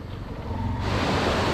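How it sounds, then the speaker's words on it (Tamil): A waterfall and forest stream in Anamudi Shola National Park, Kerala, gives a steady broadband rush of water that swells louder partway through and then holds as a dense, continuous roar with no voices. "செம்ம வாட்டர் ஃபால்ஸ் வாட்டர் ஃபால்ஸ் வந்து ஒரு நீர் ஓடை அப்படி கூட சொல்லலாம்"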